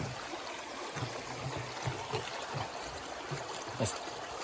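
A mountain stream runs steadily near a footbridge on a trail in the woods, giving a continuous close wash of flowing water with a few soft gurgles. No one speaks.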